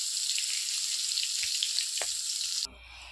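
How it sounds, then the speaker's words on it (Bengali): Fish sizzles loudly and steadily in hot oil in a kadai as it is fried crisp for a fish curry, with faint scraping along the way, and the frying noise drops away abruptly near the end. "মাছটা ভেজে কড়া করে ভাজি নিই"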